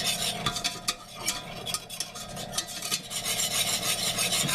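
Butter and flour being stirred into a roux, a close, continuous scraping swirl of a utensil against the pan with faint sizzling and no talking.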